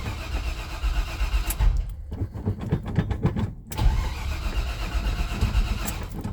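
A Chevy C10 pickup with a starter taken from a 4.3 Chevy motor cranks in rapid, even, whirring pulses for about two seconds, loud and close, set between stretches of steady engine and broadband noise.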